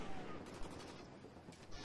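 HK21 machine gun fire in a Nuketown Demolition match, a dense, sustained clatter of rapid shots that stays loud and busy for the whole stretch with no clear pauses.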